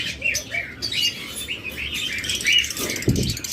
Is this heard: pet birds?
yes